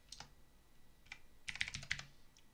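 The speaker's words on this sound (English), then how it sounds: "so that we can type in" Quiet computer keyboard typing, a few scattered keystrokes followed by a brief cluster of quicker clicks, close and soft.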